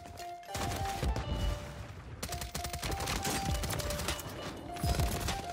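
Rapid automatic gunfire from a weapon in the video game Warzone rattles in dense bursts with short gaps, fairly loud and continuous, mixed with game sound effects.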